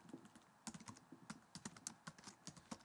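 Close, crisp keystrokes on a computer keyboard come in quick irregular bursts with short pauses between them.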